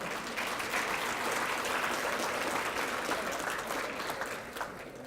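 An audience at an awards luncheon bursts into sustained, dense applause that swells and then tapers off near the end.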